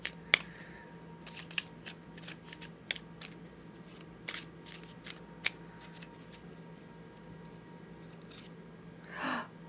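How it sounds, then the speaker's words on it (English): A Lenormand card drawn from a deck, a run of light, close card clicks and slides with a soft breathy rustle at the end, no talking. "Now let's pull a Lenormand card for you."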